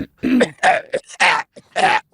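A person gives a series of wet, phlegmy coughs and throat-clearing bursts, about five close spaced efforts, loud and near.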